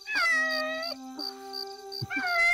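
A cat meows in three drawn-out cries close by, each a clear wavering wail with short pauses between.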